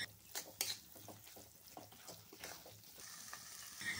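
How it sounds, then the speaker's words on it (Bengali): Onions and ground poppy seed paste sizzle and crackle in a pan while being stirred, with repeated scraping strokes over a steady frying hiss, close and moderately quiet. "পোস্ত দিয়ে পেঁয়াজের সঙ্গে খুব ভালোভাবে মিশিয়ে নিয়ে ভেজে যেতে হবে।"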